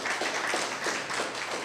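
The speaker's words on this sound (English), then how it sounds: "Clap for Joseph." An audience at an investment forum claps for Joseph in a short burst of steady, moderately loud applause from a crowd of many hands.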